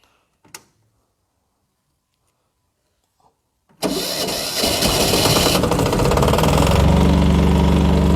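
A used portable generator sits silent apart from a couple of faint clicks, then its engine starts abruptly and settles into a loud, steady close-up running drone.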